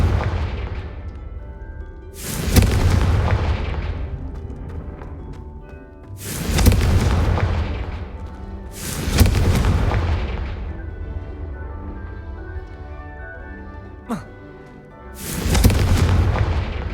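Spell blasts from Incendio and Confringo in the Hogwarts Legacy video game, heard as a series of loud, deep booming explosions, four or five heavy bursts a few seconds apart with rumbling tails and a sharp crack between them.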